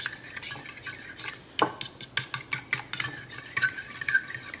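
Salt and black pepper being stirred into a flour mixture for chicken and biscuits, a spoon scraping and tapping a bowl in quick, uneven strokes, close and fairly quiet with no talking.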